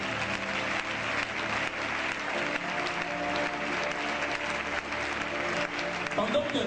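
Sustained applause from a church gathering's audience, a dense continuous wash of clapping with crowd noise mixed in, steady and fairly loud from start to finish.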